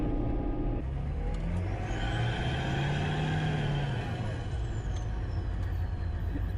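A military HMMWV (Humvee) diesel engine drives past steadily, a deep rumbling roar with a raspy Duramax-like edge that swells and fades over several seconds.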